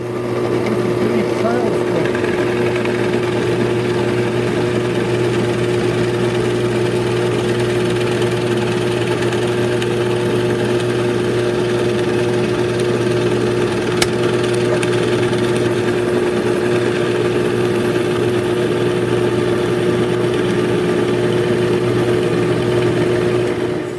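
A drill press runs with a steady machine hum droning on throughout, low and constant like a motor at even speed, with a brief click partway through.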